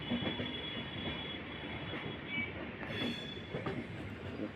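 A train rolls into a Bangalore city railway station with a steady heavy rumble, brief high wheel squeals and clatter, fairly close, no voices.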